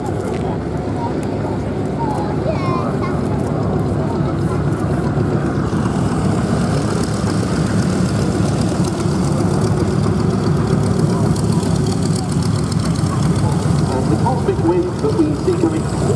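A LeVier Cosmic Wind propeller aircraft taxis at the Duxford airshow, a steady droning engine and propeller hum holding throughout with a constant busy crowd-like background.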